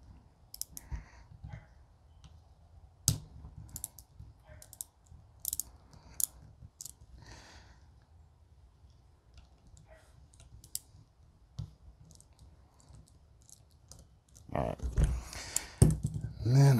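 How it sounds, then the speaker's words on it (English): Screwdriver works the backstrap screws loose on an Uberti revolver, giving sparse small metallic clicks and scrapes up close, then a louder stretch of handling noise at the end, with some talk alongside. "next, we'll crack these backstrap screws"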